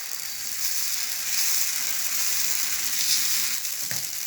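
Thin dosa batter for a minced-meat spring dosa sizzling on a hot pan, a steady close crackle that swells slightly and fades near the end.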